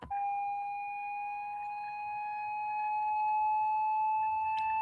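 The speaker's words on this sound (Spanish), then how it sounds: "Un tono agudo suena así." A steady, pure high-pitched tone, demonstrating a high-pitched heart murmur, holds unbroken for several seconds with faint overtones and no talk.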